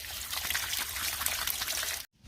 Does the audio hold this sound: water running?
yes